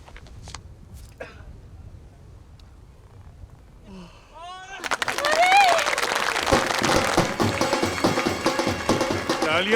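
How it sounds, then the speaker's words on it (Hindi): After a quiet stretch of scattered voices, a crowd bursts into loud, sustained clapping and cheering that continues to the end of the clip. "तालियां सुनी?"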